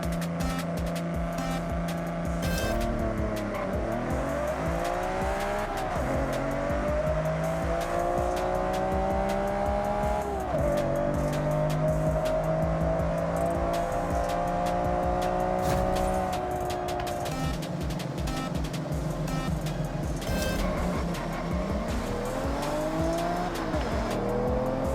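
A Nissan Skyline R32 GT-R and a Toyota Supra MK4 drag race in Forza Horizon, with loud, continuous engine roar rising through repeated gear shifts and bursts of tire squeal.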